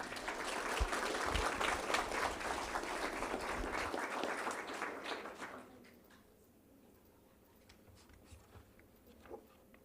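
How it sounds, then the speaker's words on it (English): Applause at a school board meeting for a student being congratulated: dense clapping fills the room for about five seconds, then fades quickly to quiet room tone with a few scattered sounds. "We would like to say congratulations to Ava and give her a round of applause."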